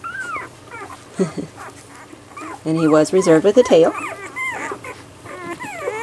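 An eight-day-old puppy whimpers and yips in short high squeals, loudest in a cluster near the middle, while someone talks over and between the cries.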